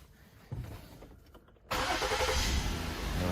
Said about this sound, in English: Just start the vehicle up.